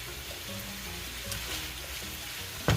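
Ground beef sizzling in a pan while it cooks until no longer pink, a soft steady crackle with a brief louder clatter near the end, alone without talk.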